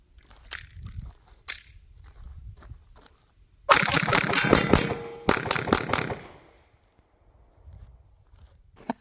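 Rapid bursts of gunshots from a Ruger Max-9 pistol fired at a steel plate target outdoors, two tight volleys of sharp cracks in quick succession after a few quieter scattered clicks, loud and close.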